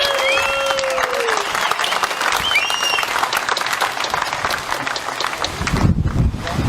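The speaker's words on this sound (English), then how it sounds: "Give yourselves a clap." Outdoor crowd at a convoy rally claps and cheers loudly and steadily for the whole stretch, with wind buffeting the microphone and a few whistles rising above the applause.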